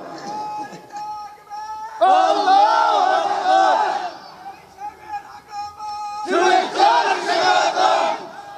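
Large crowd at an outdoor Islamic waz sermon gathering roars a takbir chant in two loud, sustained bursts, with a lone leader's voice calling out between them.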